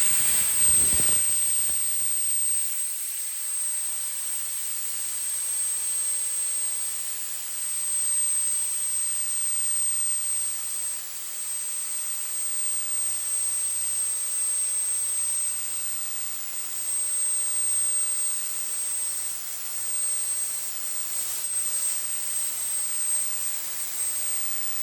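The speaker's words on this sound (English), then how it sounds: "Just took a slither off with the plasma and then just smoothed them off with the grinder." A plasma cutter chamfers the steel pivots of a worn-out skid steer toe tip bucket, giving a loud, steady, close-up hiss with a thin high whine that runs unbroken for the whole stretch, with no talking.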